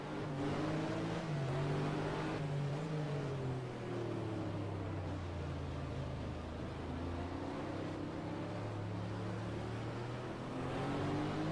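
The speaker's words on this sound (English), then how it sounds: "Porsche does not sound healthy." A Porsche race car in a racing video game runs steadily at a loud droning pitch, the engine tone rising and falling slightly and sounding rough throughout, with no talk over it.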